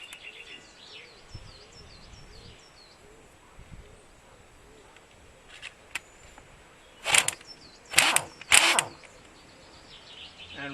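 A repaired Aircat air impact gun spun freely in three short, loud whirring bursts near the end, over a quiet background with birdsong.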